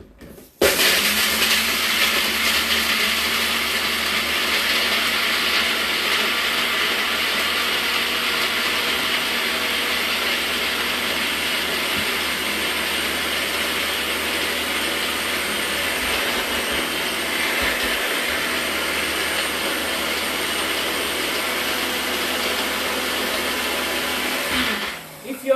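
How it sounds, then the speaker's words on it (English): A dry blender grinds ingredients in a kitchen, a loud, steady whirring roar that runs continuously for the whole stretch before cutting off at the end. "And I'll blend it. So inside my blender, okay? Dry blender."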